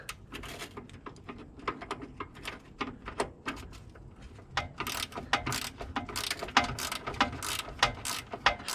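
A ratchet removing a bolt from the exhaust of a Can-Am Outlander 850, quiet clicking strokes that start soft and irregular, then grow into faster, louder bursts of pawl ticks, close by with no talking.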